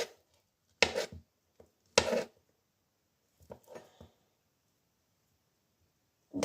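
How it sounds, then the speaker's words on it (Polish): A knife slices a banana into thin pieces against a board in a few separate, muffled strokes with pauses between, close and fairly quiet. "Kroimy banana na cienkie plasterki, aby było idealnie"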